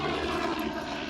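Helicopters fly overhead during an outdoor walk, a steady, loud engine and rotor roar filling the whole moment without any voices.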